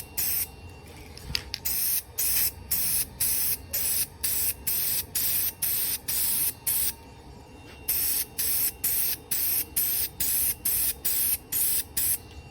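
Spray can coating a laser-engraved wooden piece: a run of short, even hissing bursts about every half second with brief gaps between, steady and close, no talk.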